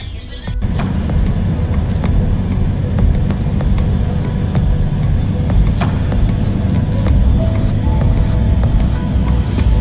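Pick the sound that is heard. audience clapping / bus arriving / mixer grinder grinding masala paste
bus arriving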